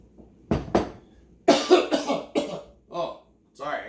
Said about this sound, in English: Oh, sorry, I got a cough.